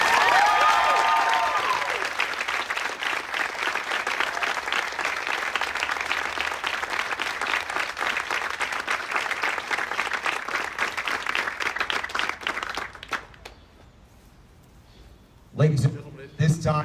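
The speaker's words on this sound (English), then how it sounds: "please give a big round of applause for the Sports Fellowship Class of" A graduation ceremony audience for a sports medicine fellowship class breaks into sustained, loud applause that fills the hall for about thirteen seconds, then fades to near quiet before a brief burst of voices and noise.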